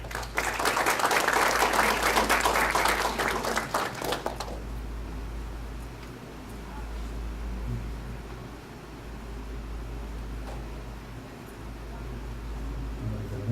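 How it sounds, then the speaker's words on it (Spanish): A dense burst of audience applause greets a speaker at a Spanish-language legal lecture, loud and steady for about four seconds before cutting off abruptly into a quiet room with a low hum. "Recibimos con un fuerte aplauso al doctor Francisco Celis Mendoza Ayma."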